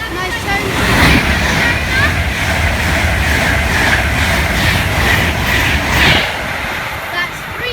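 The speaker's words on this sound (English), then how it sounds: "Avanti West Coast service from Manchester to London Euston." An Avanti West Coast Class 390 Pendolino on the Manchester to London Euston service passes at speed on the West Coast Main Line at Kings Langley, a loud sustained roar and rush with rail clatter that swells and fades, with speech over it.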